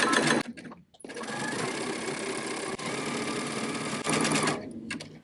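A sewing machine runs a zigzag stitch along the side seam of a dress made from tank tops, with a 1/2 inch seam allowance. A near, steady mechanical whir lasts several seconds after a brief start and pause, with no talking.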